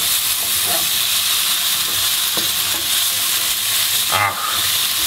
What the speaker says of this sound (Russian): Так, прожариваем еще буквально минуты две с половиной